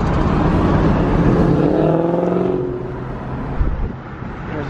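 A Ford Mustang at a car meet roars past close by, its engine note climbing loudly and then fading into the surrounding traffic noise.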